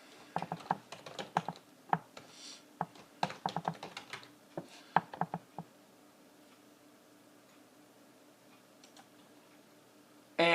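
Someone types a name on a computer keyboard: irregular bursts of close, crisp key clicks for about six seconds, then near silence.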